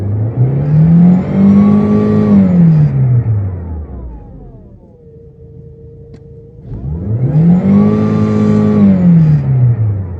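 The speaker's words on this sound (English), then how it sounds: "Now let's check the RPM." A VW Passat engine that is losing power is revved twice, rising and falling each time, with a steady idle between the revs. It sounds close and loud.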